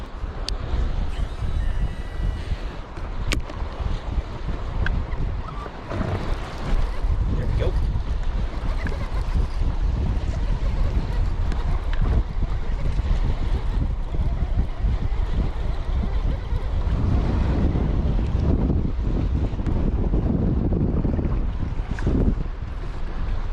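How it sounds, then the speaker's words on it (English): Strong wind roars steadily over open water while bass fishing from a boat on a shallow fall spot, buffeting the microphone with loud broadband rushing that persists throughout without a break. "that wind is ripping"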